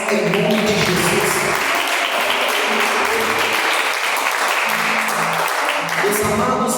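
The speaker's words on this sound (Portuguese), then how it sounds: "glorifique a Deus com palmas em nome de Jesus" A church congregation claps together in dense, sustained applause for the full stretch, loud and close, with tonal music or voices faintly underneath.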